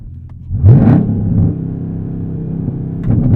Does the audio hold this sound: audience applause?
no